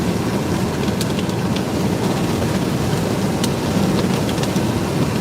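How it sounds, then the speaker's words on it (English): A dense, steady roar of hailstones hits during a storm in the Nebraska Panhandle, with loud, continuous broadband noise and scattered sharper impacts. "Start to get some hailstones falling here north of it."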